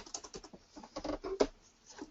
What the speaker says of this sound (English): If I can type